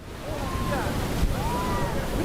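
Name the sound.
giant ocean waves crashing on beach in storm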